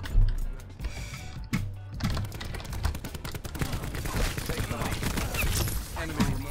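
Assault rifle gunfire in the Black Ops 4 video game, rapid continuous bursts of shots with dense crackling impacts throughout, loud and close, mixed with other game sounds.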